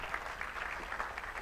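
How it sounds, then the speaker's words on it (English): Audience applause following an academic lecture on the physics of monsoons at an anniversary event, a steady dense wash of clapping that holds evenly throughout at moderate level, with no voices on top. "Another applause for Professor Gadgil for pitching in with some really wonderful insights."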